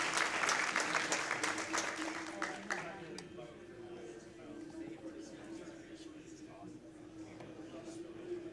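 Crowd cheering and applauding at a live charity speedrun marathon event, loud and dense at first, then settling into steadier clapping with a sustained tonal hum underneath.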